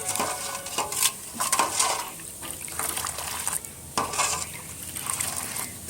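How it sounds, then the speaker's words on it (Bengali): Homemade phenyl cleaning mixture being stirred after powdered camphor is added, a spoon or utensil scraping and sloshing liquid in a container with irregular clinks and swirls, close and moderately loud, no voices. "আবার এইভাবে আমি সুন্দর করে মিশিয়ে দেবো সমস্ত উপকরণগুলো"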